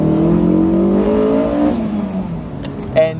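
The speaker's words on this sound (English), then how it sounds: "Driving the Honda S2000," A Honda S2000 engine revving hard while driving, a loud rising close whine that climbs then drops away as it shifts, followed by a couple of brief clicks.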